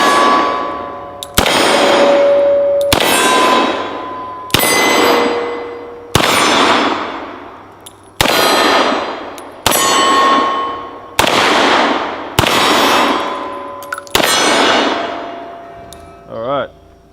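Real C96 Mauser pistol firing about ten loud, sharp shots at steady intervals of roughly 1.5 seconds, each with a ringing metallic tail that decays before the next report, heard outdoors and close.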